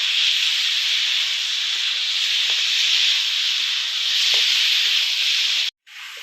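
Water is poured onto masala of cumin, green chilli and ginger paste frying in a pan for a katla fish curry with kohlrabi. A loud, steady hiss lasts several seconds, then stops abruptly.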